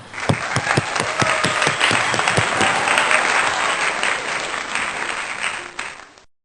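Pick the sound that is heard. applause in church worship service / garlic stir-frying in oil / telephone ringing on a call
applause in church worship service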